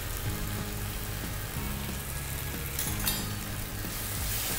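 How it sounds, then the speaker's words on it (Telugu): Turmeric frying in a pan for a drumstick prawn curry, a soft, even sizzle that runs steadily under a low background hum, fairly faint and without stirring clatter. "పసుపు వేసిన తర్వాత కాసేపు అలా ఫ్రై చేయాలి"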